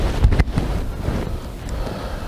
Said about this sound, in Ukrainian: Вітер дує дуже сильний.